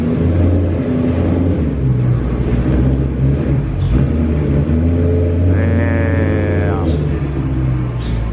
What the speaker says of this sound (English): that Meisterschaft exhaust